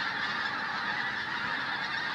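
A large flock of pink-footed geese honks continuously, a dense overlapping chorus of calls filling the air from a distance.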